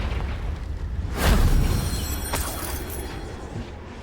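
The Confringo fire spell in Hogwarts Legacy bursts in a single heavy explosion that swells and fades over a couple of seconds against steady rumbling game ambience, followed by a fainter second crack.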